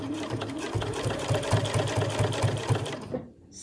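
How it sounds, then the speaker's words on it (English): A sewing machine stitches close along the fabric edge of a backpack lining in one steady, close, rhythmic run that stops just before the end. "So I'm just sewing right on the edge there."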